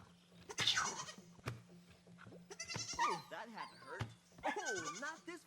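Sheep in the sling-shooting video game DvG: C let out several wavering bleats, spaced across a few seconds, mixed with sharp game clicks and someone talking over them.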